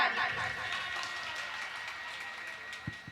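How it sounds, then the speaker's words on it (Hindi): An audience at a mushaira (Urdu poetry gathering) applauds with a dense, steady wash of clapping that slowly thins, with a brief low knock near the end. "मैं चाहती हूँ एक बार इनके लिए जोरदार तालियां"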